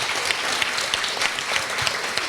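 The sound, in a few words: audience applause for panel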